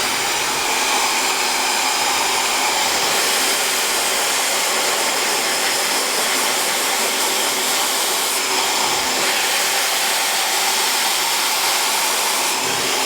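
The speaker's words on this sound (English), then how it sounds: "So I'm just going to go in and just blow dry my hair" A hair dryer blows with a loud, continuous whooshing roar, its pitch shifting slightly as it moves, with no talking.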